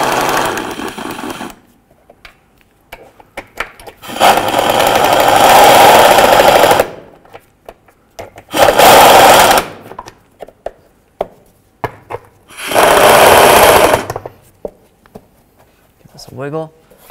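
Bolts on a 2005-14 Ford Mustang fuel filter being snugged up with a power tool, three loud bursts of rapid mechanical rattling separated by quieter clicks and handling noises, up close.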